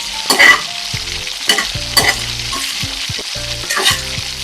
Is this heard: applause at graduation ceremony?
no